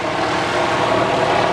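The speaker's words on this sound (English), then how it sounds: "there's an AT6 down at the other end of the runway" Steady propeller drone of an AT6 aircraft engine at an airfield, a continuous broad roar held at an even level throughout, heard from some distance with no talk.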